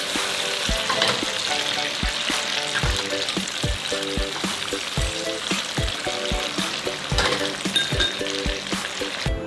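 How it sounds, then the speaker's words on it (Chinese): Tofu sizzles and fries in a pan with teriyaki sauce made from oyster sauce, soy sauce, cooking wine and sugar, a steady loud crackle broken by regular clinks of stirring. "照烧汁直接倒入锅里，不用盖盖。"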